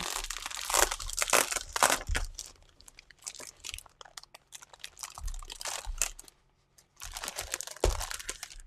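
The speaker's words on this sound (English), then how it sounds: "Trying to get just the paper and not the label out." Thick Copic marker paper being pulled from its plastic packaging, with bursts of crinkling and crunching in uneven clusters, close and fairly loud, separated by brief quieter gaps.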